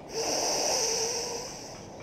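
Slow controlled breathing in and out during a seated fascia stretch, a steady airy hiss through the nose that rises, holds and fades over about two seconds, close and alone.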